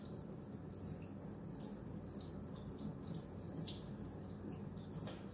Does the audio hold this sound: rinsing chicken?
yes